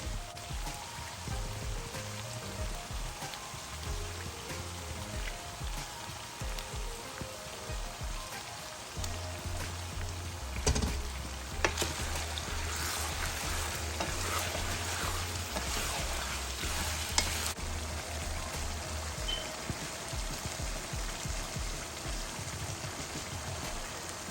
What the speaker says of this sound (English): I'm going to add some stock to it.